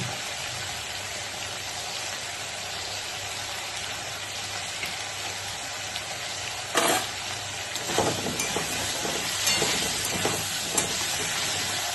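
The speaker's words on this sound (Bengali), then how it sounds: "আলুগুলো আমি ভালো করে ভেজে দিচ্ছি" Potatoes seasoned with turmeric and salt fry in a pan with a constant close sizzle, broken in the second half by a few scraping stirs and clatters, with no voices.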